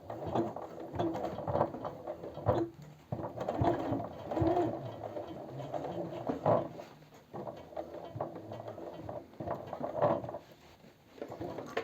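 A sewing machine topstitches a parallel seam on men's jeans, running in uneven stop-and-start bursts with mechanical clatter, moderately quiet and close.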